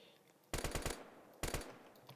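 Rapid gunfire in the Roblox first-person shooter Pulse FPS: a burst of four quick shots, a pause, then a second burst of about three, crisp and close over a quiet background.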